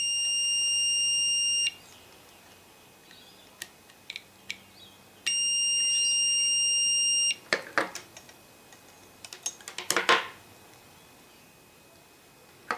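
A homemade continuity tester emits two long steady electronic beeps as its probes touch circuit board earth points, followed by scattered clicks and scraping taps from the probes.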